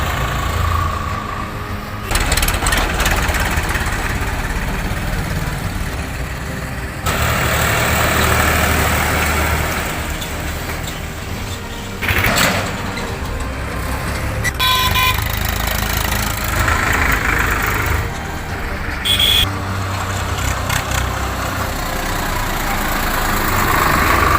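Tractors haul Ganges riverbank sand along a road toward brick kilns, their diesel engines rumbling and chugging loudly and continuously as vehicles pass one after another.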